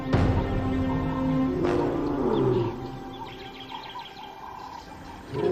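Lions roaring in the wild to signal their position: a loud, deep, drawn-out roar opens, then a second falling roar follows, and quieter ambience with faint bird calls fills the rest.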